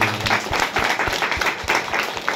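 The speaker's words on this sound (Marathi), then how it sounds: "या सिस्टमसाठी एकदा जोरदार टाळ्या." An audience claps loudly and continuously for a couple of seconds at a presentation. The dense, steady applause rises and falls slightly and has no voices over it.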